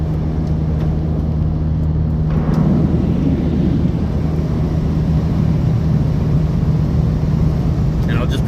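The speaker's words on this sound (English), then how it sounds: "The sunroof is massive, I dig that. I'll open it for a moment," Wind rushing through the large open sunroof of a moving Toyota Rukus, a loud steady roar mixed with road and engine drone inside the cabin, with a faint tone running underneath.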